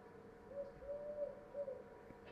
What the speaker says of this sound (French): le cri, le roucoulement